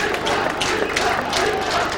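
Crowd noise at a 1993 WAFL Australian football match between West Perth and South Fremantle, a steady roar of spectators with scattered cheers and claps throughout.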